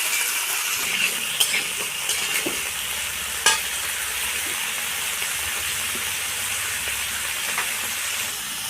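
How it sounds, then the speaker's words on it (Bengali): Vegetables with slit green chillies fried and stirred in a pan, a continuous bright sizzle with occasional sharp utensil scrapes, close and loud with no talk. "এই যে আমি সবজিটা ভাজছি, সবজির মধ্যে কাঁচা লঙ্কা চিড়ে দেওয়া আছে"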